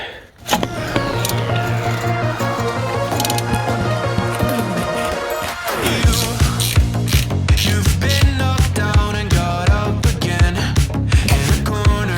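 A ratchet clicks steadily as bolts on the gearbox of a Fiat 500 1.2 petrol are undone during a clutch job, the click rate rising in the second half amid other workshop noise, with no talking.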